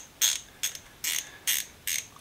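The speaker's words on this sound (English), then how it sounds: "Got a little 1/4 inch SK ratchet." A small 1/4 inch SK ratchet clicks close up in five short, bright bursts of rapid pawl ticks, evenly spaced about half a second apart, with no talking.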